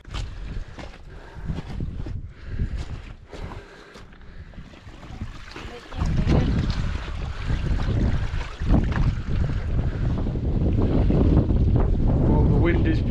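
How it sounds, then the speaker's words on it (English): Strong wind buffets the microphone on an open Yorkshire Dales hilltop near Simon's Seat above Barden, a steady roar that swells louder after the first few seconds and stays gusting to the end, with a voice briefly heard early on. "Oh, the wind is picking up."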